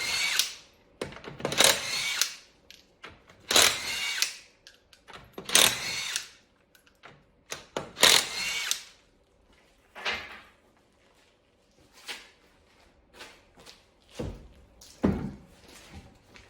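Power tool with a 21mm socket removing the rear wheels of a 2010–2022 Lexus RX350/RX450h, repeated short loud whirring bursts separated by pauses and softer clunks, close up with no talking.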